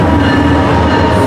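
Westbound freight train rolling past at Fullerton, a loud, close, continuous rumble and rail roar with steady wheel noise.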